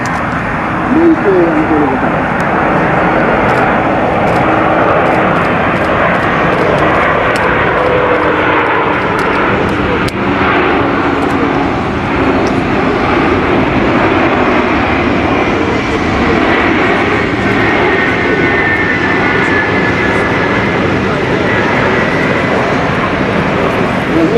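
Steady, loud roar of Antonov An-225 Mriya cargo plane engines droning continuously, with a voice talking over the noise.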